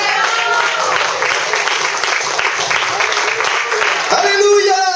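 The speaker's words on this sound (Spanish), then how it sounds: "¿Cuánto pueden dar un aplauso a Cristo?" Church congregation applauding steadily in a dense, loud burst at a worship service, with voices calling out over the clapping and a brief rise near the end.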